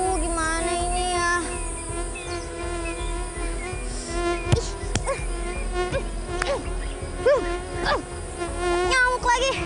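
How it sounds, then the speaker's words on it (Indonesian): Mosquitoes buzzing in a wild natural area where someone is lost, a thin whining drone running throughout with many layered tonal lines, over a busy background of insects and scattered sharp knocks. "Nyamuk lagi."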